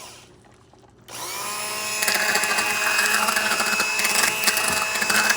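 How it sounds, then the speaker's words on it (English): A submersible immersion blender starting up and whirring steadily at a high, tonal pitch while it purees soft boiled potatoes for a collard green and sausage soup, close and loud after a quiet start, with no talk. "And I'm going to blend these potatoes."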